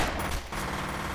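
Rapid bursts of gunfire from the first-person shooter FEAR, a dense continuous fusillade with a brief dip midway, loud and close throughout.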